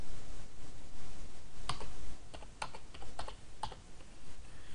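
Computer keyboard typing in short bursts of sharp, close clicks as a job name is entered into estimating software, with quiet pauses between keystrokes.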